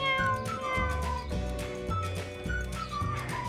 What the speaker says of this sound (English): The cat wants to eat, Bobby.